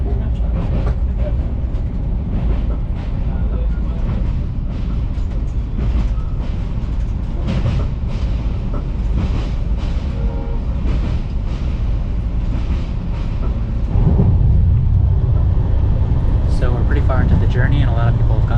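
Inside a long-distance passenger train in India, a loud constant rolling rumble and rattle with faint clickety-clack, accompanied by indistinct voices in the carriage.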